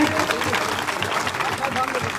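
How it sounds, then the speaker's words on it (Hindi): Applause at a public honoring ceremony in Rajgarh, Churu, for a Tokyo Olympics shooting medalist: dense, steady clapping from an audience fills the whole short stretch, with a voice talking over it. "जोरदार तालियां मनु जी के लिए।"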